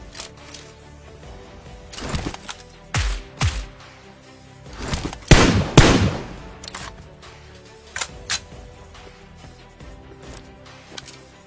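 Gunfire in the PUBG Mobile game comes as scattered sharp bangs, some single and some in quick pairs, with one louder, longer burst in the middle and quiet gaps between the shots.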